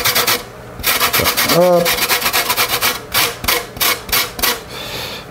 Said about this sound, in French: vous pouvez faire avec un petit peu de zeste de lime, si la lime veut bien